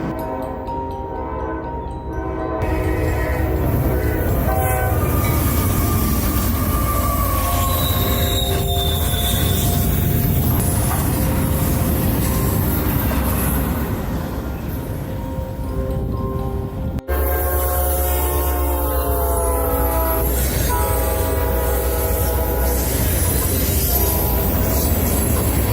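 Train 283 flies past at speed, its horn sounding in long blasts over a loud, continuous roar of wheels and cars, with some squealing and a brief break before the rumble resumes.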